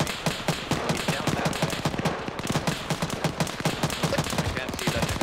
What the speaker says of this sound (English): I think that Dishka's actually firing down at Main J instead